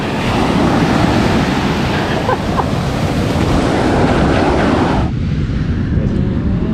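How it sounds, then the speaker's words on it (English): Harsh ocean waves surge and break in a steady, loud roar with heavy wind buffeting the microphone, the wash briefly easing near the end. "Harsh waves."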